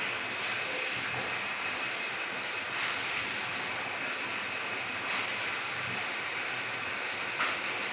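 Sweets simmering in boiling sugar syrup in a pot give a steady, even bubbling hiss that runs throughout, with a few faint clinks and no voices.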